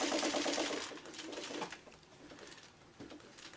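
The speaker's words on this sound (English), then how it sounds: "even if you have to hand crank your sewing machine" A sewing machine whirs in quick rhythmic bursts, loud at first, then slows into softer intermittent stitching runs.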